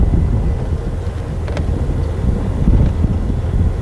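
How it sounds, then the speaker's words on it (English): Wind buffets the microphone on a windy morning by a dam on a safari drive, a steady low rumble throughout with no voices. "Beautiful, beautiful windy morning."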